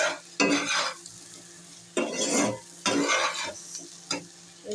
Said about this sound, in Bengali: এভাবে হালকা একটু ভেজে নিব।